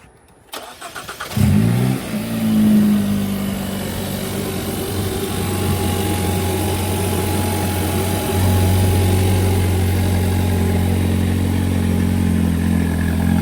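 A Hyundai Elantra N engine with a newly installed XForce downpipe cranks and fires up, then settles into a steady, loud idle with a deep exhaust rumble that continues throughout.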